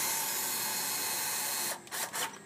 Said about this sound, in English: power drill like this makes it a lot easier